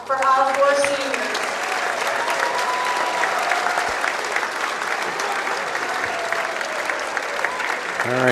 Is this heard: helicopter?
no